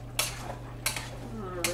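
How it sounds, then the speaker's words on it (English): Quick stirring of food in a kitchen pan, three sharp clinks of a utensil against the pan spaced evenly over a low steady hum, close and fairly quiet. "Do a little quick stir here"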